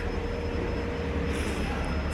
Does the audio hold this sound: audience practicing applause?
no